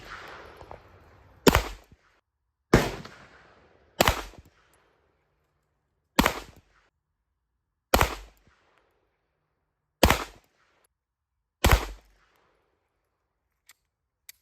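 A Beretta 92A1 pistol fired at target practice: seven loud, close, sharp shots spaced roughly a second or two apart, each with a short decaying tail, then two faint clicks at the end.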